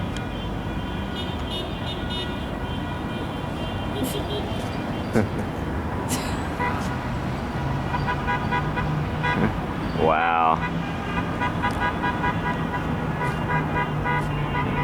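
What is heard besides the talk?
cars honking in the street in Ushuaia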